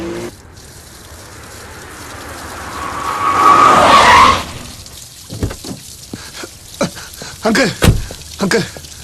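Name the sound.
car driving off with tires skidding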